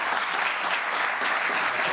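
Studio audience applauding on a television debate set, a dense, even burst of clapping that is short and fairly loud, with no talk over it.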